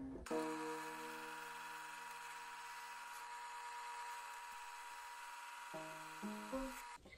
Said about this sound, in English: I'm going to use the disc and try to get even